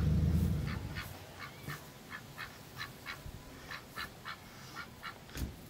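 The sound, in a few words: Pekin ducks quacking in temporary cage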